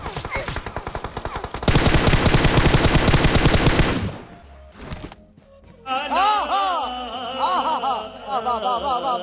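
Rapid automatic gunfire bursts in a mobile battle royale game, a loud sustained volley followed by scattered shots and then more firing over game effects, with a voice briefly audible.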